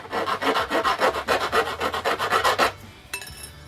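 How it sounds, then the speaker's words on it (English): Rhythmic rasping strokes of a deburring tool scraping the cut end of a 1/4 inch tubing line before flaring, about fifteen quick even passes close up, then a pause and a faint lighter scrape. "But I like to deburr."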